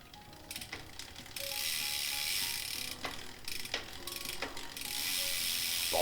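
A bicycle drivetrain clicks steadily as the pedals turn, a fine ratcheting freewheel buzz that starts and stops in short spells, close and fairly quiet with no talking.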